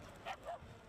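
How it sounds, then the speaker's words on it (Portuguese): A dog barks twice in the distance, faint and brief, over a steady background hiss. "Ah, cachorro latindo."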